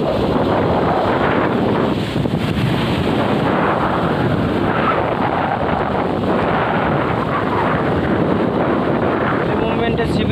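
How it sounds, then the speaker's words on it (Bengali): Storm surge waves pound the shore at Digha Mohana beach at full high tide, a continuous loud roar of surf mixed with heavy wind buffeting the microphone. "ওই যে এখনও ভয়ানক কিন্তু জলোচ্ছ্বাস চলছে দীঘা মোহনাতে, প্রচণ্ড জলোচ্ছ্বাস বেড়েই চলেছে।"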